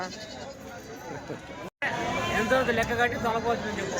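Goats and sheep bleat repeatedly at a busy weekly livestock market in Kadiri, with overlapping calls over constant crowd chatter and nearby voices, broken by a brief dropout.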